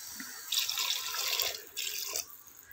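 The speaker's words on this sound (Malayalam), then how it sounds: "വെള്ളം ഒഴിച്ചു കൊടുക്കാം," Water is poured into chicken curry cooking in a pan in two short, soft splashing bursts, with a quiet pause between them.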